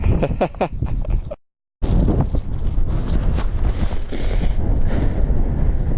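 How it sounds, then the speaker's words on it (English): Strong wind near a mountain summit buffets the microphone in loud, continuous roaring gusts, cut off by a brief dropout before the blustering resumes. "as you can hear, it's got much windier now"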